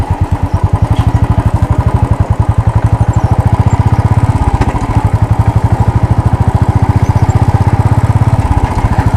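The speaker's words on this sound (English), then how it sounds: "Still the same rumble in the engine." 2016 Royal Enfield Classic 350 single-cylinder motorcycle engine thumping while riding, a loud, steady, rapid pulsing rumble heard close up, with wind noise and no talk.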